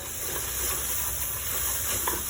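Spice masala frying in a pan for a Sylheti-style meat curry gives a steady, close sizzle with soft stirring scrapes throughout, with no talk.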